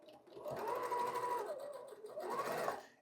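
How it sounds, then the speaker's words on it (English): A sewing machine chain piecing quilt fabric runs in one steady burst, close and fairly quiet, with a brief slowdown near the middle before speeding up again. "flop over my first groupings, grab this piece, remember where the top is, and set it here on the top, and go back into chain piecing"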